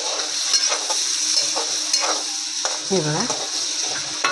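Paneer masala being stirred and fried in a pan for matar paneer, with steady close sizzling and a few spoon scrapes against the pan, and someone speaking briefly over it.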